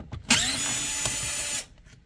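A power driver whirs loudly for about a second and a half while backing out screws holding the monitor of a BMW X3, starting abruptly and cutting off cleanly, with no voices.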